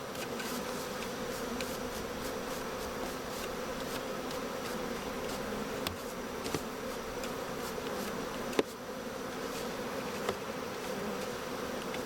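Honey bees from a queenless hive with laying workers drone steadily after being smoked, a dense close buzzing swarm that holds constant throughout, with a few faint knocks.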